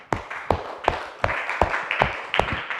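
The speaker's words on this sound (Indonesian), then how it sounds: "tepuk tangan buat Alvina" A classroom of students clapping for a classmate, a moderately loud rhythmic group clap of about eight sharp beats, slightly ragged and with no talk over it.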